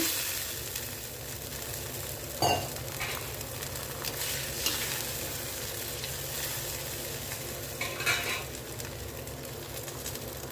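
Tamarind and green chili gravy bubbles and sizzles steadily in a pan as it thickens, a constant close hiss with a few brief clinks and stirring sounds.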